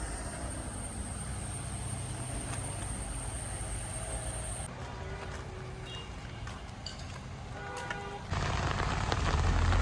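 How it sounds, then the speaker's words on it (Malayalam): Light rain patters steadily on surfaces in a village in Idukki, Kerala, with a constant hiss, growing louder near the end, alongside a faint high whine early on. "അടുത്ത മഴ വീണ് തുടങ്ങി കേട്ടോ"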